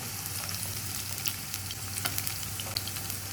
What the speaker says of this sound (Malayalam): ഇപ്പോൾ ക്യാരറ്റും ഫ്രൈ ചെയ്ത് മാറ്റാൻ പോവുകയാണേ